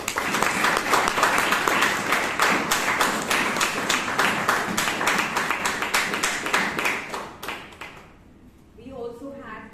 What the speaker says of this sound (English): So let us all give a huge round of applause to everyone.